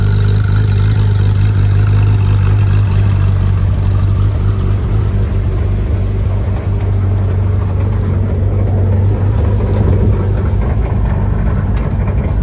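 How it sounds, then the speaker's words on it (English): A Porsche 997 GT3 4.0 Clubsport idles close by, its engine holding a strong, steady low hum with a rough, constant mechanical texture throughout, loud and alone. "The engine starts up every time, no problem, like the car is completely stock"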